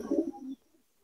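A pigeon gives a single low, throaty coo held close by, lasting about half a second and then falling silent.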